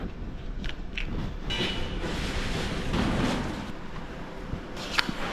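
A commuter train ride in Sydney, with steady rolling rumble and broadband rail noise throughout, plus a few faint clicks and rattles in the carriage.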